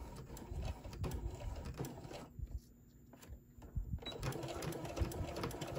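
Close, steady stitching from a sewing machine running down the side of a faux leather zipper pouch, with a brief drop in the whir midway before the motor picks back up.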